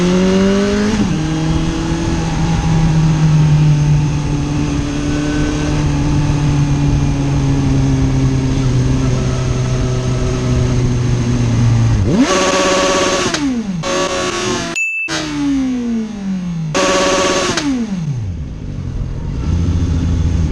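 Car engine under load while driving, a strong steady drone with pitch climbing through gears, then sharp revving bursts and quick gear changes near the end, loud and close with no talk.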